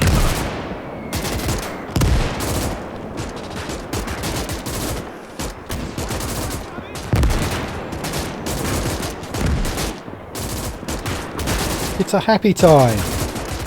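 Gunfire and artillery rattle through a Gates of Hell strategy game battle, with bursts of machine-gun fire, sharp rifle shots and heavy booms at an irregular pace, loud and close, while someone talks briefly.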